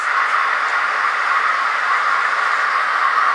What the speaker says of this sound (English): And I got another train coming through.